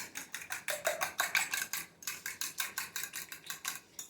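A utensil scrapes and clinks in a rhythmic stirring pattern around the edge of a pan of breakfast casserole, a steady series of about a dozen soft strokes heard close up without talk.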